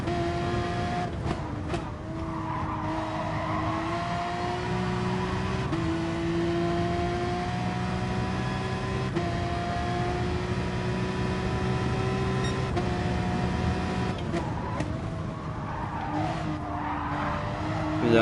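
Simulated race car lapping Brands Hatch GP circuit in an endurance practice session, a steady loud engine drone rising and falling through gear changes, with brief tire scrubbing under braking and no talk.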